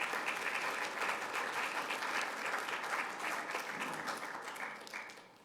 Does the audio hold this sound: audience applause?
yes